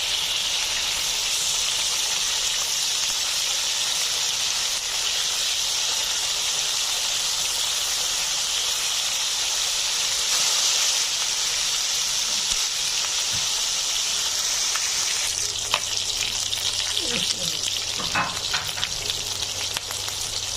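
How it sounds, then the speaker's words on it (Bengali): Pieces of meat fry in a pan for a healthy dinner, a steady loud sizzle with crackle running throughout, and a few sharper spatters and clinks near the end as the pieces are turned over. "আমার মাংসটা এক পাশ হয়ে গেছে, এখন আমি একটু উল্টে দিচ্ছি অন্য পাশ।"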